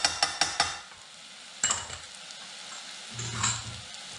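Caribbean-style curry powder and Kashmiri mirch go into a hot pot for lentil soup and are stirred: a few quick metallic scrapes and clinks at the start, then a soft sizzle with another brief stir near the end.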